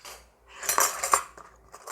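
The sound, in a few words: metal spoons being handled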